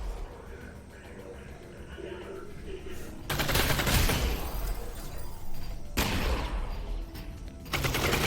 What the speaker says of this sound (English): Wait, he shot me through the wall?